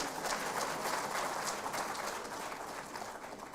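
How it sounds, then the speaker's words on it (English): A crowd claps at a 2024 examination results announcement ceremony. The applause is distant and soft, a continuous wash of many hands that fades slightly toward the end. "Can we please have a round of applause?"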